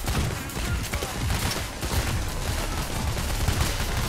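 In the video game Payday: The Heist, police fire from outside the building rattles in a dense, continuous barrage of overlapping gunshots, loud and unbroken for several seconds with no talk over it.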